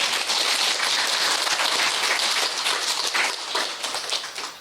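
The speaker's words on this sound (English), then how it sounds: "Why are you clapping?" An audience breaks into clapping during a spiritual teaching talk: dense, steady applause holds evenly for several seconds at fairly loud level, tapering only slightly at the end, with no voices over it.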